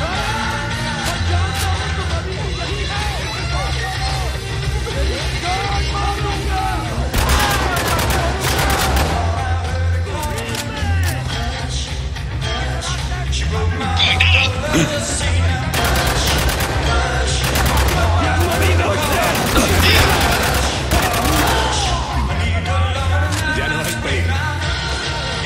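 Sustained, dense gunfire in Spec Ops: The Line on Xbox One, with overlapping automatic bursts and loud cracks that never let up, mixed with yelling voices and a steady musical backdrop.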